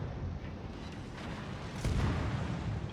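Warship guns firing in World of Warships, a dense rumbling barrage of naval gunfire that swells slightly near the end, steady and loud without talk.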